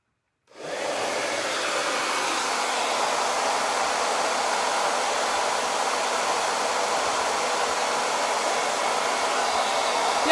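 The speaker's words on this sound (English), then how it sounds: "And now I'm going to get my hair dryer. It's going to be loud." A hair dryer runs continuously at close range to dry ink on a shirt transfer, starting abruptly after a brief silence and keeping up a steady, loud airy roar for the rest.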